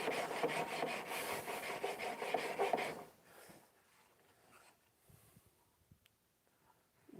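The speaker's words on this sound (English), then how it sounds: "So that's just on the diamond stone without grinding, without putting any heat to it." A knife blade is hand-sharpened on a diamond stone with no power grinder: steady, close rasping strokes for about three seconds, then faint scattered scrapes and near silence.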